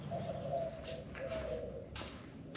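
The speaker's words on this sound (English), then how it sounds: "Boy, the doves are talking this morning" Doves coo in the morning outdoors, soft repeated low coos at a moderate distance over a steady background hiss, with a few faint clicks and knocks nearby.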